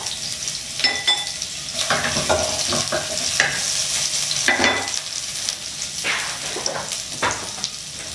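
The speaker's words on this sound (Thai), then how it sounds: "เอากระเทียมลงไปเจียวนะครับ" Garlic frying in a pan over low heat, a steady soft sizzle with scattered scraping and stirring clacks of a utensil against the pan, close and continuous, no talking.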